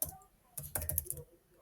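Quick bursts of typing on a computer keyboard, a cluster of close, crisp key clicks in the middle with quieter taps at the start, no voices.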